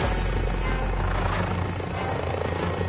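Helicopter rotor thumping from a video game churns loud and steady throughout, a close, continuous low beat with no voices over it.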